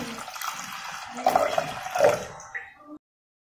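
Steady pouring water splashes into a pot of washed lentils for a few seconds, swelling briefly before stopping abruptly.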